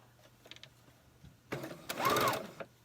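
A sewing machine stitches fabric for a hat lining, a brief distant whir early on, then a louder, close burst of rapid stitching lasting about a second with no talking.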